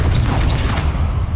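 A Confringo blasting spell strikes in Hogwarts Legacy, a loud, dense burst of booming noise that fills the short moment, with a whooshing magical crackle over a heavy low rumble.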